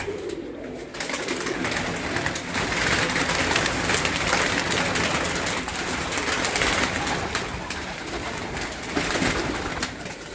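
Pigeons coo steadily over a dense, continuous backdrop of bird calls, many birds close by throughout, with no talking.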